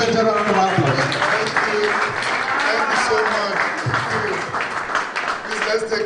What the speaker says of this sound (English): Can we please appreciate him with a better round of applause?